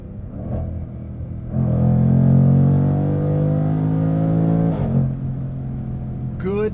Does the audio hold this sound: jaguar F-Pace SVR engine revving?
yes